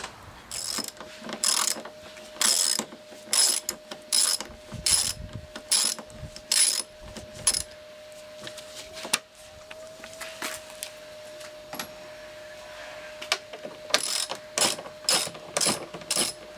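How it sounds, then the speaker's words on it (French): Hand ratchet with a 10 mm socket loosening the upper fasteners of a car's front bumper, repeated quick clicking bursts in a steady rhythm, close and clear, with a faint whine between strokes. "On va prendre une douille de 10 là, et puis tu vas m'enlever les fixations supérieures du bouclier"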